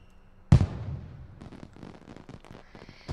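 Fireworks go off outdoors with a sharp loud bang and then a scatter of smaller crackling pops and thuds fading in and out.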